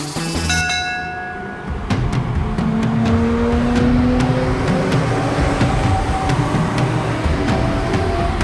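Cartoon railway station scene with a train rumbling and rolling along, bell-like chimes and a rising engine or whistle tone over steady loud mechanical noise, with no talk.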